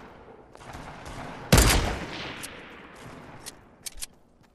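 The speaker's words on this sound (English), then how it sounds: "Somebody shot at me." Video game gunfire in a Fortnite-style battle royale match: a loud broadband burst of shots near the middle, followed by scattered fainter pops and cracks over a low background rumble, with no talk.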